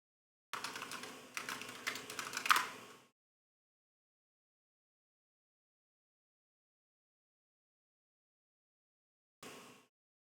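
Computer keyboard typing comes through on stream audio as a quick burst of close, crisp key taps lasting a few seconds, then silence, then one brief flurry of taps near the end.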